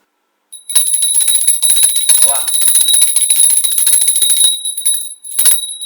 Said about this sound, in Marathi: तिसरी घंटा आम्ही आलेल्या पाहुण्यांना म्हणतो की तुम्हीच द्या तिसरी घंटा द्या